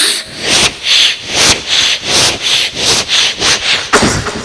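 A voice imitates a hand saw on small wood, making rhythmic rasping strokes back and forth, about ten in a steady, close, loud cadence.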